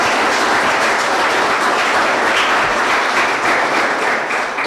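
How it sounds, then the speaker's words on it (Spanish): Audience at a university mechatronics congress giving a welcome round of applause: steady, dense clapping from a large crowd filling the whole stretch at an even, fairly loud level, with no speech. "le damos un buen aplauso de bienvenida"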